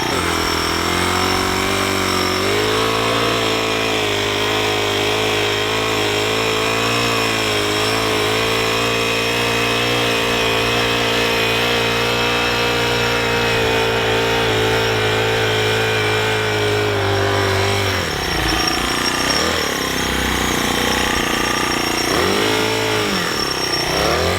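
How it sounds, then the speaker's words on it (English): A small gas engine on a powered wheelbarrow runs loud and steady, holding a high rev for a long stretch, then drops and wavers near the end. "This revs up the engine, so let me show you."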